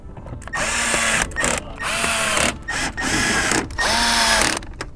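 A power driver runs screws in to mount an aftermarket speaker in a Toyota. The motor whirs in four close bursts of about a second each, separated by short pauses.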